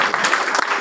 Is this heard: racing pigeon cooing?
no